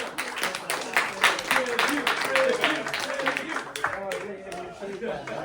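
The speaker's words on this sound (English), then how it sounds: "Let's give Ed a round of applause, everybody" Audience clapping at a close-up and parlor magic show as a volunteer is called up, scattered, uneven claps from a small crowd with talk and voices mixed in throughout.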